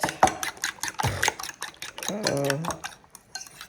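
Rice with vegetables, salt and pepper is stirred and mixed in a pan for Chinese fried rice: rapid metal scrapes and clinks of a utensil against the pan, loud and close, with a brief voice-like tone midway.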